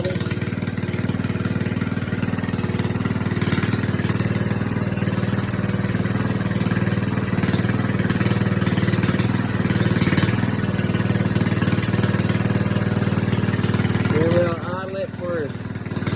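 A car engine warming up after a cold start with the throttle held slightly, a steady loud drone that continues unbroken for most of the clip before easing off near the end.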